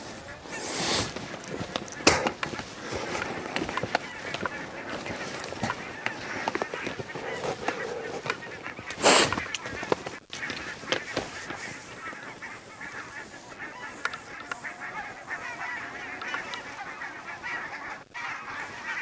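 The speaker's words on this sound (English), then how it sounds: "Few hundred geese going overhead." Several hundred geese honk in a large flock passing overhead near a forest, a dense chorus of calls rising and falling, moderately distant, with occasional faint sounds nearby.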